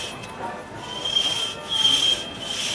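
At a steam fair axemen show, a hand saw cuts a disc off a log with a soft, rhythmic rasping of strokes, moderately close, with no voices.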